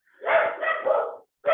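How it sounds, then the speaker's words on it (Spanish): Several dogs bark in a few close, loud bursts from a home, with a short pause before the barking resumes. "disculpen mis perros, haciendo bulla de fondo"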